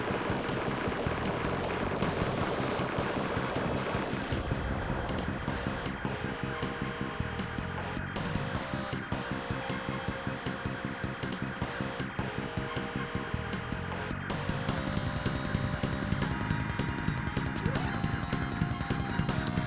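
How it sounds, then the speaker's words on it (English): Rapid bursts of mini missiles fire nonstop in the SNES shoot-'em-up Strike Gunner STG, a dense, loud stream of retro blasts layered over busy chiptune music throughout. "Eat mini missiles."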